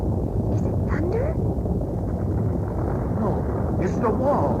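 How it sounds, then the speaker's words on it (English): A radio drama sound effect of ancient city walls crumbling: a deep, continuous rumble rolls steadily throughout, with faint higher tones and voices mixed in. "No, it's the walls. They're crumbling."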